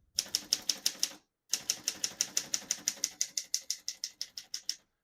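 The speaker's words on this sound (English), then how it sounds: "all the keys type nice and none of them skip or stick" A 1934 Smith-Corona Flat Top portable typewriter types in quick, even, crisp keystrokes heard up close. A short run is followed by a brief pause and then a longer, steady burst that fades a little toward the end.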